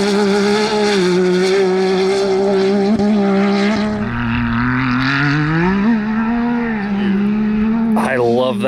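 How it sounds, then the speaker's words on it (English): Hellcat Demon engine-swapped side-by-side tearing across dirt, its supercharged V8 droning loud and close with rising and falling revs, a brief throttle blip near the end, and a voice talking over it. "that little tip-in sound, too, when he retaps the throttle"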